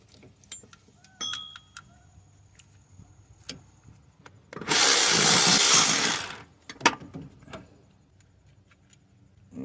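A 1/4-inch ratchet on bolts during a 2015 Toyota Sienna water pump replacement, scattered close clicks and taps, with one sustained two-second whirring burst in the middle.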